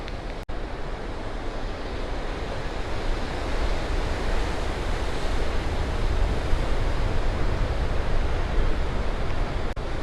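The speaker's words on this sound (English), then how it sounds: "some more individual shots of the waves running up along the cliffs." Ocean waves surge and break against the cliffs between Portuguese Beach and Duncans Landing, a steady, loud, close roar of surf with wind buffeting the microphone and no voices.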